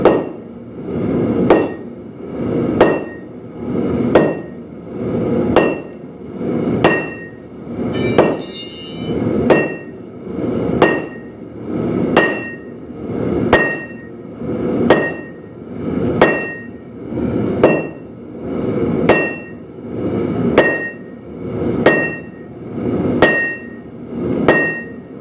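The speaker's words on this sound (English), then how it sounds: "since we're on the round stock again, we got a 10-pound sledge" Heavy blows from a 10-pound sledgehammer on hot round coil spring steel during hand forging of a knife, ringing in a steady rhythm of about one strike every second and a half, loud and close with no talk.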